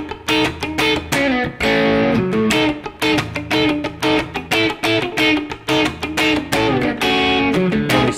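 A funk rock electric guitar solo plays loud and alone, with slapped strums and choppy muted strokes in a tight, driving rhythm.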